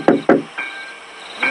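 A fist knocks on a window: two sharp, close raps in quick succession, then two fainter taps follow after a pause, with nothing else around them.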